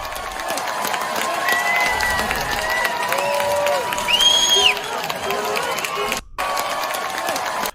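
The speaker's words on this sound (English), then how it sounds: "Pierre Poilievre is pulling another massive crowd" Large outdoor crowd at a Pierre Poilievre political rally cheering and clapping in a steady roar, with whistles and shouts rising above it and a brief dip near the end.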